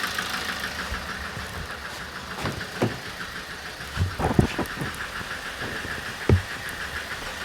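A 2007 Toyota Avensis D4-D diesel engine idling with a misfire and mechanical knocking, heard as a steady rough rumble broken by irregular sharp knocks and taps, close and without talk.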